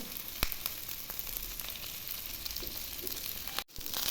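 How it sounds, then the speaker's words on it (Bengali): Cabbage-wrapped chicken rolls sizzling in hot oil after being flipped to the other side, a steady close crackle with a few sharp pops and a brief gap near the end, no one talking. "পাল্টিয়ে অন্য দিকে ভাজবো।"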